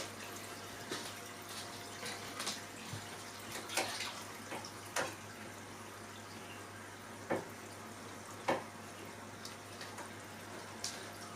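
Water rushes steadily through an aquarium filter driven by a new, smaller pump, a soft continuous gurgling wash with a constant low hum beneath and occasional louder splashes and drips.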